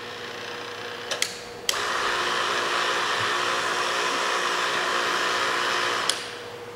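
A power feed unit mounted on a table saw runs with a steady, even whir for several seconds. A few sharp clicks come as it switches on, and a final click marks its stop.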